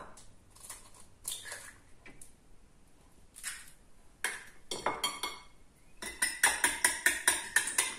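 A fork beats an egg on a plate, giving light scattered clinks and scrapes that build into a quick, rhythmic series of sharp taps toward the end, fairly close and without voices.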